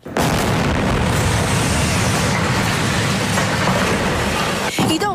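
Israeli strike blasting a large hole in an orange-yellow building in Khan Younis, Gaza, heard as a loud, sustained roaring rumble that fills the whole stretch before trailing off at the end.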